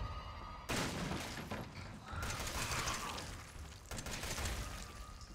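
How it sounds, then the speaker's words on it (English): A machine gun fires in Resident Evil Biohazard, dense rattling bursts of automatic fire with a mechanical clatter that stop and restart in loud blocks, up close with no speech. "The machine gun."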